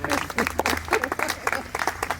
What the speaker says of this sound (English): so she starts everyone clapping